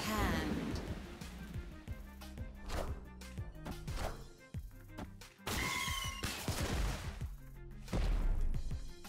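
Storm card effect from the Marvel Snap video game: rain hiss with thunder rumbles and crashes, dense and continuous, layered over game music and other effects.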